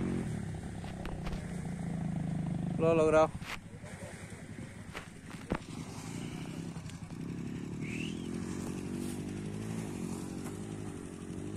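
A Trueno 125cc motorcycle engine drones steadily as it climbs an enduro trail in Parque Tunari, Cochabamba, with wind noise, a brief louder rev, and a voice speaking over it.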